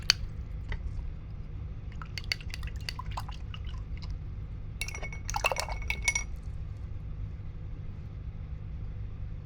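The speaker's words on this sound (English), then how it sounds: "And I'm gonna wash my brush." An acrylic paint brush is rinsed in a glass water jar, giving scattered light clinks and wet swishes in short clusters, close and fairly quiet over a low steady hum.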